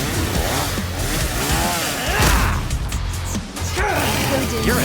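Chainsaw revving in an animated Death Battle fight between Yuji and Denji, harsh buzzing bursts mixed with crashing impacts and sweeping effects, with a voice speaking among the action.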